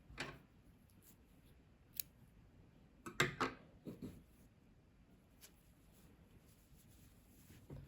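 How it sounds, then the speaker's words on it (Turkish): Scissors snip crochet yarn in a few quick, crisp cuts in a quiet room, with one sharp snip followed by a short cluster of clicks, then faint stillness. "İpliği kesiyorum."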